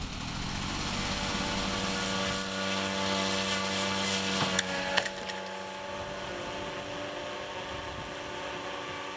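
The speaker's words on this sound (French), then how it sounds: "le drone effectue son premier vol vers l'est" Drone aircraft on its first flight eastward from an ultralight airfield, a steady droning engine hum with strong harmonic tones, continuous and fairly loud, with a couple of brief clicks midway.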